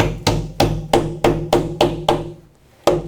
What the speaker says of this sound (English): I'll take a hammer and I'll pound it flat so that it all stays together